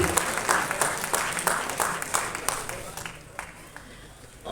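At a film audio launch, an audience claps to welcome producer and actor Udhaya onto the stage, with rhythmic, moderately loud clapping that gradually thins and softens.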